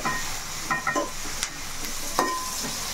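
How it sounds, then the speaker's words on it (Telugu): Onions frying in oil as the base for a fish curry, a steady close sizzle with several clinks and scrapes of a spoon stirring the pan, and no speech. "ఇప్పుడైతే ఉల్లిపాయ బాగా వేగిపోవాలండి."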